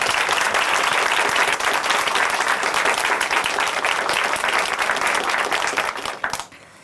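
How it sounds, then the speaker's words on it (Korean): Sustained, dense applause from a church audience honoring a woman who has just given her faith testimony on a Korean Christian program, loud and steady throughout before fading quickly at the end. "우리 자매님의 삶 함께 앞으로도 박수로 응원해 드리도록 하겠습니다"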